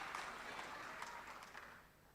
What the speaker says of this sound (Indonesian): Kita berikan tepuk tangan buat Tuhan Yesus